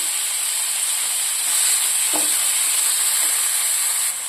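Spices and curry leaves fry in hot oil for a curd tempering, a steady broadband sizzle and hiss running throughout, swelling slightly midway, with a brief clink near the middle and no talking.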